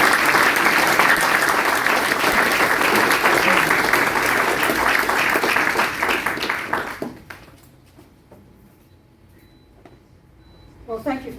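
An audience at a book presentation of Greek Australian stories breaks into loud, sustained applause that fills the room for about seven seconds, then drops away to quiet murmuring before a voice returns.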